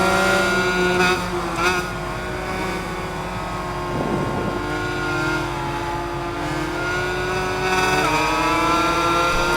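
A 2-stroke Suzuki RM250 motorcycle engine in the Ride 5 racing game, buzzing and revving steadily with a rising and falling pitch as the bike races, loud and continuous throughout.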